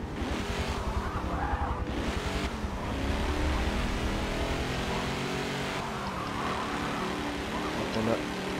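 A racing car in a Forza or Dirt video game roars under acceleration and then brakes, with engine revving and tire squeal continuing throughout, while someone talks over it.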